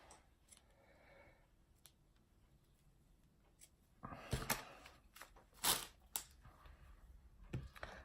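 Scissors snip through seam binding while making shabby chic tags, a few sharp close cuts and rustles after a quiet stretch.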